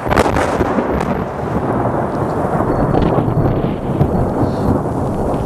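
Thunder from a lightning strike over burnt Douglas fir and pine forest rolls as a loud, sustained rumble with a sharp crack at the start, continuing without talk.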